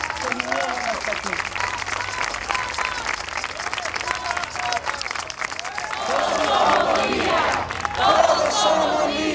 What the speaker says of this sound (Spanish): Un aplauso para las mamás de Oaxaca que vinieron hasta aquí